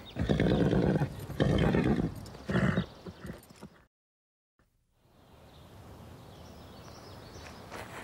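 Horse in an animated series whinnying and stamping loudly in a close burst for about four seconds, then a brief silence and a low outdoor ambience.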